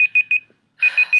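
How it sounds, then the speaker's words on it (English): Alarm clock beeping in a workout setting: a loud, sharp electronic tone in quick triplet bursts, a brief pause, then another group of three beeps, with no talking. "My alarm's going to tell me to stand up and fix it"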